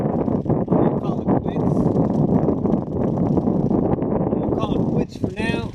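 Strong wind gusts across an open lake and buffets the microphone in a constant loud roar, with choppy water and faint talk underneath.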